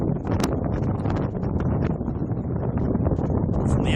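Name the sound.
strong wind outdoors by the Ohio River, Cincinnati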